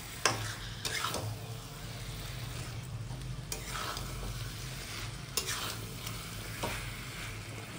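Raw prawns sautéing in a pan for Bengali dahi chingri give a continuous close sizzle, punctuated by a few sharper stirring scrapes over a low background hum.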